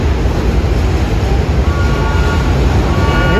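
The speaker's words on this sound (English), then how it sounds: "There's another Coney Island Q train with an R68A set of equipment." A New York City subway Q train bound for Coney Island, running R68A cars during a historic train parade in Brooklyn, roars loudly and close by with a continuous low rumble and faint wheel squeal.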